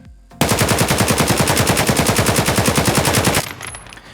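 Fully automatic AK103 rifle fire in the video game Escape From Tarkov, a loud rapid burst of about thirty evenly spaced shots lasting three seconds, then an abrupt stop with fading tail and brief mechanical clicks.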